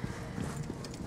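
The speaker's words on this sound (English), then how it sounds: "A new horse." A newly bought horse in Assassin's Creed Origins trots with quick, close clip-clop hoofbeats in a steady rhythm over a dense game background.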